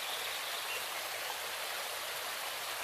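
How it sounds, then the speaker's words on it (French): Clear river water cascades over giant stones into a small lake, a steady broadband rush of splashing and churning flow, continuous and fairly close with no voices. "L'eau cristalline cascade sur les pierres géantes et en bout de course forme un petit lac."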